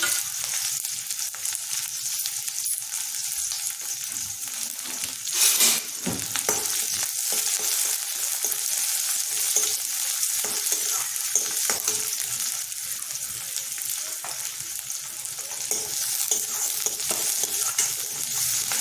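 Cumin, green chillies and sambar onions frying in a pan give a steady, dense sizzle with occasional stirring scrapes and a brief louder clatter, constant throughout without any talking.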